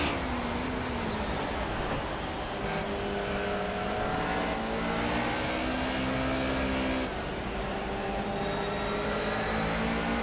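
Mercedes 190E race car in Project CARS at Brno in the rain, its engine revving loud and steady with pitch climbing and dropping through gear changes, with no talk.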